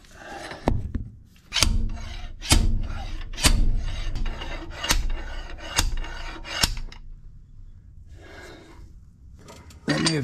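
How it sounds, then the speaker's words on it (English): Repeated sharp metallic knocks from a slide hammer pulling a part out of a 1982 Ford F150, about seven strikes in a loose rhythm, close by, with scraping between them and a pause near the end. "we're going to use this slide hammer and yank this thing out"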